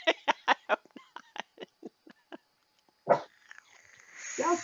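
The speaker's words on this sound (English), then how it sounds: "Who's barking? Oh well, obviously it must be Marley barking." A small dog barks in a quick series of sharp yaps, then pauses, gives another bark and a whiny yelp at close range.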